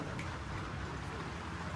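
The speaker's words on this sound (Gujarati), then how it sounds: "અત્યારે વરસાદ આવે" Soft, steady rain falls during an unseasonal shower, a faint continuous patter with no clear voices.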